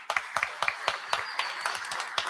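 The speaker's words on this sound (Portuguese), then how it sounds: "Uma salva de palmas para o professor Luiz Marques." An audience applauding a guest professor at a socio-environmental conference, a steady patter of claps from a small crowd lasting a couple of seconds.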